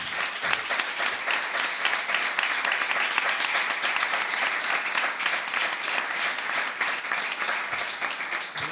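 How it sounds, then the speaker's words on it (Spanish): An audience claps for Enrique at a talk, with dense, sustained applause that stays loud and even for several seconds without a break. "un aplauso para Enrique"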